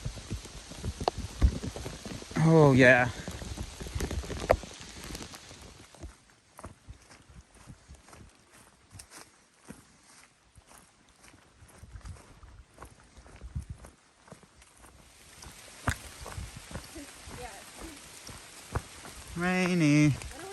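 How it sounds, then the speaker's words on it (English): Rain patters steadily on a wooded hiking trail, a soft continuous wash heard between a few brief spoken remarks and louder rustles near the start and end. "The rain has begun."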